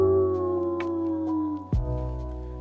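A voice imitating a dog, drawn-out low growling that slides downward and breaks into a gruff woof near the end, loud and close.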